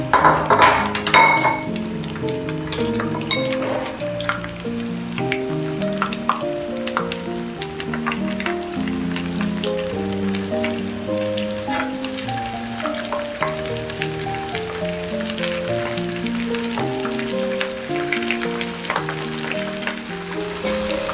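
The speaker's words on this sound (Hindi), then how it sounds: "अब ये देखें जी, हमारी गोभी फ्राई होना शुरू हो चुकी है।" Cauliflower pakoras coated in gram flour batter fry in hot oil with a steady, close sizzle and crackle lasting throughout, with a few light clinks of a utensil early on.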